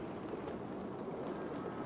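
In Batman: Arkham City, a telephone rings faintly in the game world, its thin electronic trill surfacing partway through over a steady low ambient rumble.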